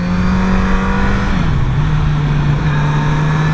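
A Kawasaki Z900RS retro motorcycle is ridden on twisty roads, its engine giving a loud, steady drone close by that dips briefly in pitch mid-ride before settling again, with wind rushing underneath.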